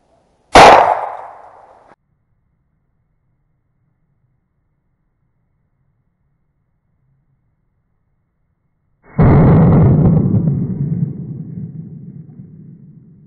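Two shotgun blasts fired while hunting hare, loud and close: a sharp first report decaying over about a second, then after long silence a second heavier boom with a longer rumbling tail, no voices.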